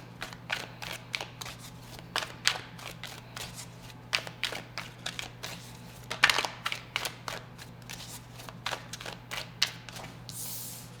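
Tarot cards are shuffled by hand in a quiet room, with a rapid series of soft riffling slaps and flicks in uneven bursts close to the listener.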